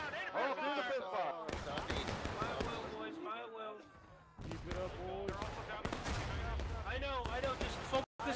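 Muskets fire in volleys in the Civil War game War of Rights during a historical rules event, with loud cracks and booms landing among overlapping shouted voices on a busy battlefield.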